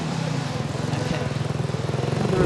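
A vehicle engine revving during a stunt at London's New Year's Day Parade, a steady loud rumbling drone with pulsing throttle surges that build toward the end, crowd noise around it.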